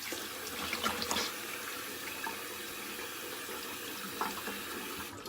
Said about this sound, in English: I'm going to go ahead and give a little rinse. This time I'm going to get all the soap off.